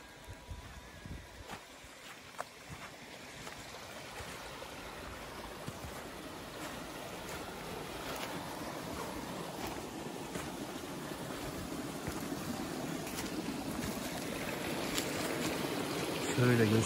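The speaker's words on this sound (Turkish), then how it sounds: "İçinden çok güzel şarıl şarıl akan bir dere geçiyor." A stream flows through rural land near a village outside Kırklareli, a steady broadband rush of water that grows slightly louder over time, heard alone with no talking.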